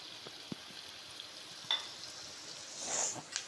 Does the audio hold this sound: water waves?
no